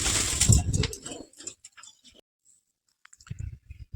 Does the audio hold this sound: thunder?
no